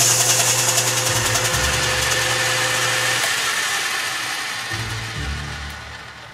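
A metal lathe with its chuck spinning hums up close in a steady mechanical whir, its tone shifting slightly a few times as it runs alone without talk.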